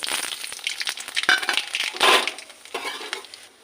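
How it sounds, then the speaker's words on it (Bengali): Nigella seeds and dried chillies hit a little hot oil in a kadai, giving sharp crackling, spitting bursts that come in uneven clusters before fading. "কড়াইতে সামান্য তেল দিয়েছি, তেলটা গরম হয়ে গেছে। এবার কালো জিরে আর শুকনো লঙ্কা ফোড়ন দেব।"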